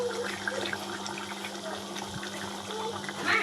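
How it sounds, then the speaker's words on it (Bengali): Hot water poured into a pot of mutton curry (kosha mangsho) cooking with potatoes, a steady, fairly quiet splashing rush of liquid that carries on for a few seconds with no talk over it. "গরম জল দিয়ে দিচ্ছি।"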